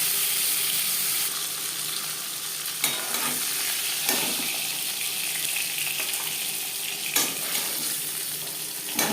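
Pieces of katla fish fry lightly in hot oil in a pan, giving a steady close sizzle with a few louder pops and spatters. No voices are heard.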